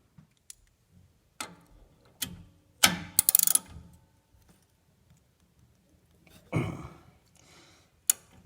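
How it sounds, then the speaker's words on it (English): Bolt gripper socket working loose a rusted, stripped nut, sparse sharp clicks and ratcheting bursts separated by quiet gaps, close up with one longer grinding rattle in the middle. "So now we can go ahead and extract it."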